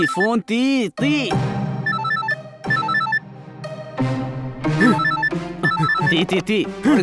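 A phone rings in a repeating electronic tone pattern in a scene from the TV crime drama CID, mixed with lively music and exclamations, with short vocal bursts over the ringing.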